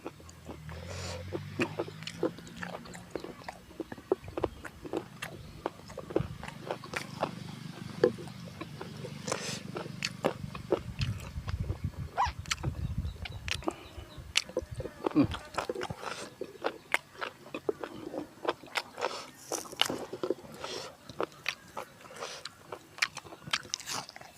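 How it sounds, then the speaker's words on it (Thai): Crunchy chewing of crisp cow-ear vegetable with dipping sauce, with repeated sharp bites and crackles in quick succession, fairly close, over a low rumbling background. "ฟังเสียงกรุบกรุบ"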